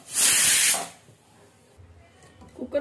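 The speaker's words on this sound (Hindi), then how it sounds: "इसकी स्टीम निकाल देंगे" Steam bursts from a pressure cooker on a kitchen gas stove during cooking of carrot halwa in a loud, close hiss lasting under a second, followed by quiet kitchen sounds and soft clatter.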